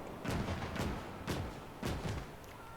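Cannon fire in the WWII strategy game Gates of Hell: three or four heavy booming shots at irregular intervals, each a broad thudding blast with a short rumbling tail, fairly close and loud, no talk.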